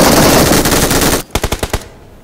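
Automatic gunfire in the mobile battle royale game BGMI, a dense loud burst of rapid shots that cuts off, followed by about six distinct spaced single shots.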